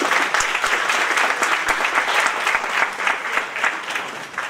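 A congress audience applauds at an international human rights and constitution event, dense, steady clapping sustained throughout without pause.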